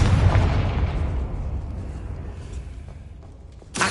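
A Confringo spell detonates in the video game Hogwarts Legacy, a loud booming blast with a long rumbling decay that fades over a few seconds, then a second sharp burst hits at the end.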